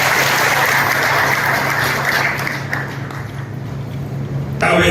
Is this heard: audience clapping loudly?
yes